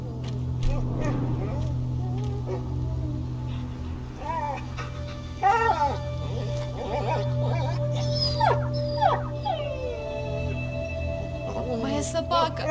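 A wounded dog whimpers and whines in the video game A Plague Tale: Innocence, high wavering cries rising and falling over several seconds amid low background ambience, with voices speaking in between.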